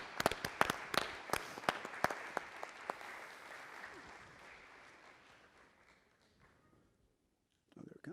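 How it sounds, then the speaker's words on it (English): An audience at the 2021 Noble Public Schools Foundation awards ceremony applauds three nurses, with sharp, close claps at first that thin into scattered clapping and fade to near silence before a brief sound at the end. "Let's give another big round of applause for all three nurses."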